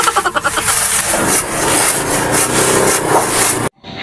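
Steady rasping strokes of a handsaw cutting through wood, loud and close, continuing for a few seconds before cutting off abruptly.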